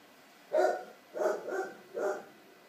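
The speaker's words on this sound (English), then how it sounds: "Sorry, that's my dog." A dog barks indoors four times in quick, uneven succession, moderately loud and slightly distant, against a quiet background hiss.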